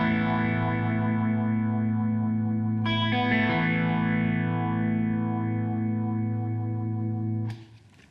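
An electric guitar plays through a Mooer Black Truck effects pedal, with the envelope pattern set to randomize. Sustained chords shimmer and shift with filtered modulation, the tone changes partway through, and the sound ends in an abrupt cutoff.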